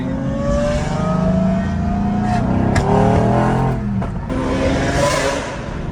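A V12 supercar engine revs nearby while cruising, a loud rising and falling mechanical howl with layered harmonic tones, climbing in pitch and easing off amid steady road rumble.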